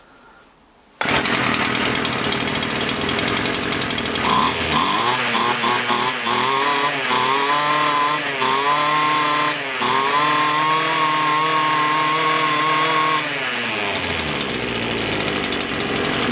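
Petrol strimmer engine catching after priming on half choke, starting abruptly and running loud and close, with a rough buzzing drone that surges and dips in pitch before easing down at the end.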